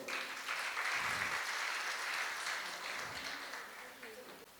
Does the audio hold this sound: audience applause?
yes